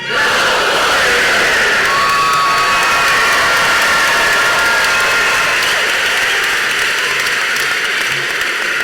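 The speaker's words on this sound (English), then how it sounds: "I'm going to want everybody to cheer" A convocation crowd filling a room with loud, sustained cheering and shouting, a dense roar of many voices that holds for several seconds at full volume before easing slightly.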